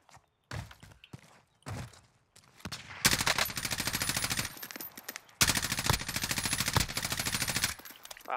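Gunfire from the Warzone video game: a few scattered single shots, then two long sustained bursts of rapid automatic fire, loud and close.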